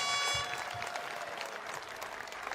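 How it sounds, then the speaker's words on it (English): Home crowd at Malilla speedway in Sweden clapping and cheering at a distance, a steady wash of applause with a brief tonal sound at the start. "nicely received there by the home crowd"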